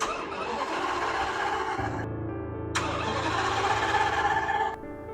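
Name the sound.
Lamborghini engine cranking, trying to start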